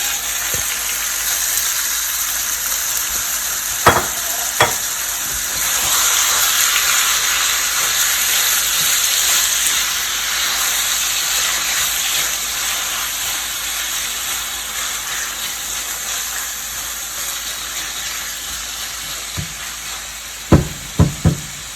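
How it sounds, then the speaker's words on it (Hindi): Chicken frying in a quarter cup of oil in a saucepan, a steady loud hiss and sizzle that runs throughout, with a few sharp pops and clatters near the start and end. "1/4 कप ऑयल मैंने डाल दिया है सॉस पैन के अंदर। अब मैं इसमें डाल दूंगी चिकन।"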